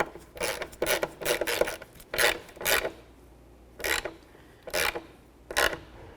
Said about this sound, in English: Carefully screw it in.